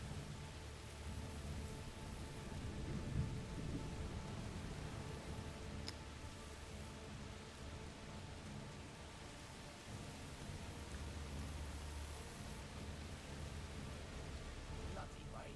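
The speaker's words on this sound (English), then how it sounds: "Bloody rain. It's perfect. No smuggler will be out in this." Steady rain falls in the video game A Plague Tale: Requiem, a constant soft hiss with occasional low rumbles beneath it, while characters speak over the downpour.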